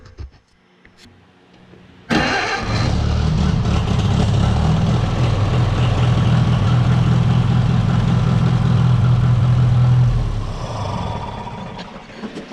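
An International 300 tractor engine catches after a quiet start and settles into a loud, steady, rough idle close by, then eases off slightly near the end.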